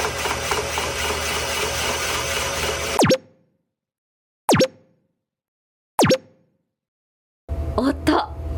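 Ice being shaved: three sharp, separate scraping strokes at roughly one-and-a-half-second intervals, each cutting through silence, framed by stretches of steady background noise at the start and end.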